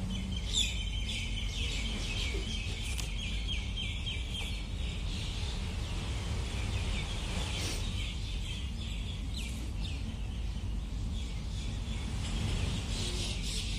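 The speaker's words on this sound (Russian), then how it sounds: "И птички, да. Тоже их слышно." Faint birds chirp and tweet repeatedly over a constant low roar, likely distant surf, with no voices present.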